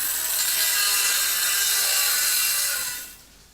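A circular saw runs along a straight cut jig, a loud steady high whine carrying through the cut for about three seconds before quickly dropping away.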